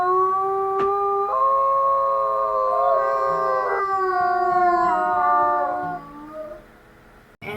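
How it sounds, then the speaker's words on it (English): Several wolves howl together in long, sustained, overlapping tones that rise and shift in pitch, close and loud, then fade out near the end with no talking. "And they're gonna howl one more time."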